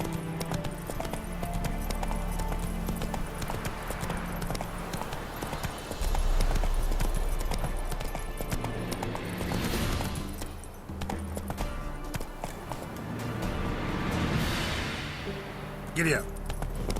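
Horse hooves gallop in The Witcher 3, a steady rhythmic clip-clop running throughout over game ambience, with spoken dialogue and a rider's urging voice over the hoofbeats.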